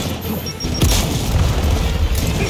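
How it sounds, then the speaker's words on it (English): A grenade goes off in Gears of War 4, a single heavy boom close by that rolls into a sustained rumble of debris and combat noise. "if you're gonna throw a grenade, could you do me a favor and make sure it goes downrange?"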